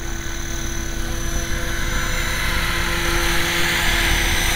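A law-enforcement agency helicopter flying around at night, a constant loud rotor and engine drone with a steady hum and slowly swelling whine, no voices.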